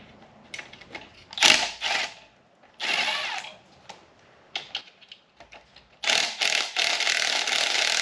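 Close, irregular clicking and rattling bursts from a ratchet loosening the 12mm alternator bolts on a Suzuki Cappuccino engine, with short pauses between.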